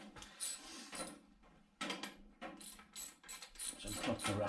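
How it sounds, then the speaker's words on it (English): A hand ratchet clicks through quick strokes on a bolt of a Peugeot 205 GTi Mi16 project car, a close, fairly quiet run of rapid pawl clicks in several bursts with brief pauses between them. "Let's get the ratchet."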